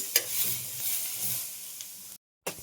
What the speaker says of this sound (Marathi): फ्राय करायचे फ्राय करते मी आता